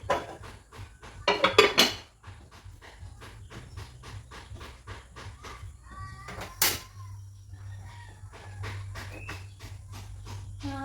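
Pots and dishes are washed at a sink. Metal and ceramic clink and knock in quick, irregular bursts, with some louder clatters over a low steady hiss of running water.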